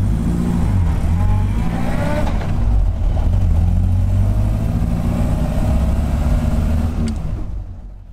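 A Morris Minor engine with a leaky exhaust drones loudly and roughly throughout, with a gritty, rattling exhaust note that rises and falls as it revs.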